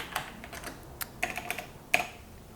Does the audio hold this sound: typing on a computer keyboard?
yes